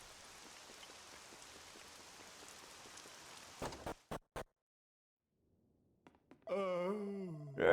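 Steady rain falls softly in the Dragon Quest VII Reimagined game, a faint hiss that breaks off into silence before a short burst of tonal game sound.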